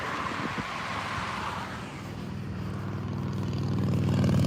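Steady broadband roar of passing car traffic near a reservoir in Westerville, swelling gradually louder over a few seconds with a low engine rumble building toward the end, no talk.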